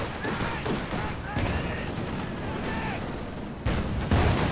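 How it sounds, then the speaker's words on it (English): Machine-gun fire from an AA half-track in Company of Heroes 2, a dense crackle of rapid shots mixed with distant battlefield bangs, running continuously with a heavier burst near the end. "Now AA half-track's starting to chop them up"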